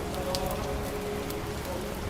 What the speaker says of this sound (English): as the rain falls gently on the ancient stones and the candle finally flickers out